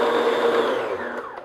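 An electric mixer beating chocolate butter cake batter, a steady whirring motor drone held briefly and then winding down as it slows.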